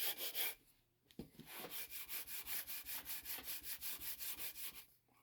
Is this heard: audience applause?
no